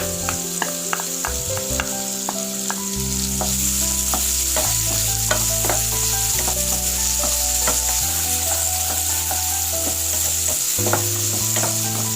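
Small onions fry in melted ghee for a Kerala fenugreek payasam, a steady loud sizzle with occasional stirring clinks and scrapes throughout, no voices.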